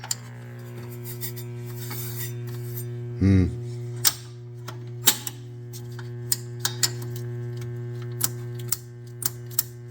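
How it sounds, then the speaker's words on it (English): Philco Model 46-1203 radio phonograph turntable mechanism switching on, a brief rising motor hum followed by a train of sharp clicks and ticks over a steady low mains hum. "Let's turn on the phono side."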